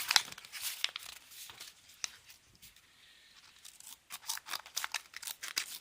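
Knife blade of a Leatherman Squirt PS4 multitool cutting through material, giving irregular crinkling, tearing rasps in bursts with a quieter gap midway, close up and without talk.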